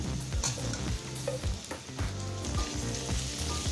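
Ivy gourd (kovakkai) sautés in a pan, a soft steady sizzle with repeated scraping and stirring clicks from a spatula, quiet and close, with no talking.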